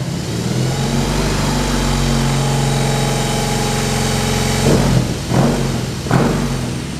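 A 2021 BMW R18 First Edition motorcycle with an aftermarket exhaust idles steadily and loudly up close, then gives three quick throttle blips that rise and drop back fast.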